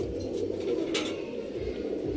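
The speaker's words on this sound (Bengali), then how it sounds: "এটা নর পায়রা" A male Kotashi-breed pigeon in a loft gives a low, soft, continuous cooing close by, with faint background rustles.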